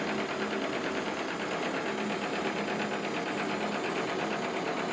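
A live steam engine in an RC fishing boat runs at about 40 psi, giving a steady, fast mechanical chugging and hiss that stays even and close throughout.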